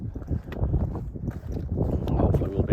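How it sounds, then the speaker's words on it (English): Wind buffets the microphone on an exposed ridge of Clougha Pike in the Forest of Bowland, a steady low roar with gusty surges throughout, and a voice speaks over it. "Hopefully we'll be out of the wind in a bit when we drop off the ridge"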